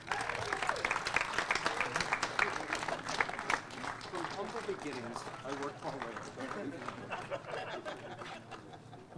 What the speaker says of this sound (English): join me in another round of applause as we welcome the man of the hour to the podium